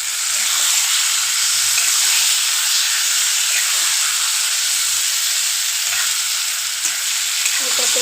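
Boiled taro sizzles in hot oil in a pan while a dry fish curry cooks, a loud, steady frying hiss with faint stirring scrapes.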